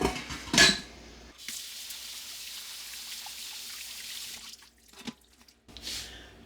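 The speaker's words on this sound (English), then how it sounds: "I'm going to strain the pinto beans" Soaked pinto beans are tipped into a strainer, with a clatter of metal and a splash at the start, then a steady trickle of draining water and a few soft knocks of the pot near the end.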